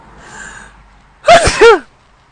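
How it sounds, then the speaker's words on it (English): A single loud, close sneeze with a sharp double burst, preceded by a faint breathy intake and followed by quiet. "hold on, I have to sneeze"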